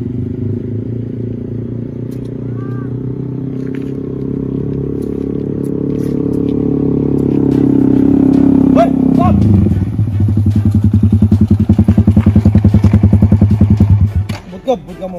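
A motorcycle engine revs and builds in pitch close by, then drops into a loud, rapid chugging idle that pulses rhythmically until it cuts off.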